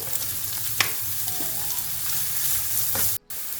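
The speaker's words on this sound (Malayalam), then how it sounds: "ഗ്രീൻ ചില്ലി കട്ട് ചെയ്ത് ഇട്ട് കൊടുക്കാം, ഗാർലിക്ക്, ജിഞ്ചർ നന്നായി ഒന്ന് വഴറ്റിയെടുക്കാം" Green chilli, garlic, ginger and chopped onion sautéing in a pan over high flame, a constant close sizzle broken by a few scraping stirs, briefly cut to silence near the end.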